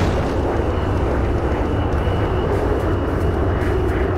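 A plane lifting off in the video game Enter The Matrix, a steady, loud, broadband engine roar with a deep rumble that holds evenly throughout, with no talking.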